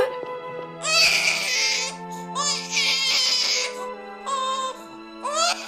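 A newborn baby in an animated series cries in repeated loud wailing bursts with short pauses between them, set over a sustained tonal musical background.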